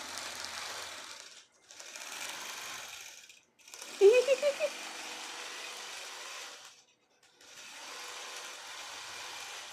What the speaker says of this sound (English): Maybe I should look at the long arm quilting machine.